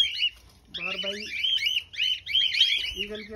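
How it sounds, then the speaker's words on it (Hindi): Repeated shrill, piercing eagle cries ring out close by, rising and falling in quick bursts, with lower chattering tones underneath. "ईगल की आवाज़ आ रही है, बाज की है"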